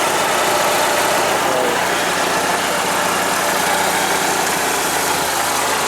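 A 1992 Ford Tempo GL engine idles continuously and loudly up close, a steady broadband rumble with a faint rhythmic throb and no talking over it.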